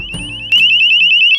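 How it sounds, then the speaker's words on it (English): A Braumm Wi-Fi door and window sensor alarm beeps briefly, then bursts into a loud, close, shrill warbling siren for about a second before cutting out. "The alarm will go off immediately when the door is open."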